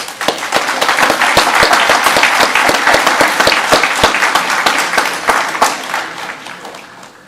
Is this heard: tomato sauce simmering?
no